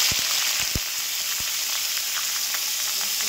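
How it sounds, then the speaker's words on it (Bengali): Spring onions fry in a pan for a homemade pasta dish, a steady loud sizzle with a few soft knocks of stirring early on. "আমি একটু ভেজে নিচ্ছি"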